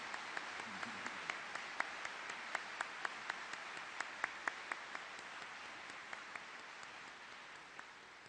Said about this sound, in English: let's give a big, big round of applause for our friend Warren Buffett